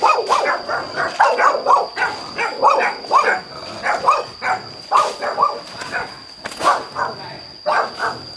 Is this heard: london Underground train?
no